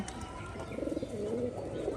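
A single unpaired Rajshahi pigeon gives a short series of soft, low coos in a loft, fairly faint over a light background hum.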